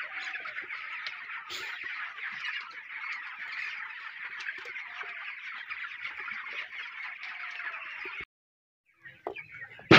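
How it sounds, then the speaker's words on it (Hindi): About 500 broiler chickens, 22 days old, cluck and chatter in a dense, continuous chorus inside a poultry shed. The sound cuts off abruptly near the end before a few faint, scattered noises. "यहाँ पे 500 मुर्गी है।"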